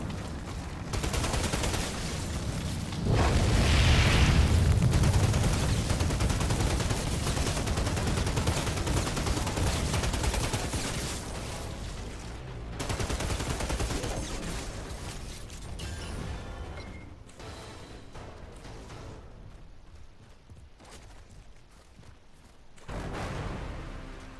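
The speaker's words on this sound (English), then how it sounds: "Trying out an SMG here." Submachine gun fire in the video game Outriders, sustained rattling bursts that peak early and then thin out into scattered shots and game effects, loud and continuous with no talk.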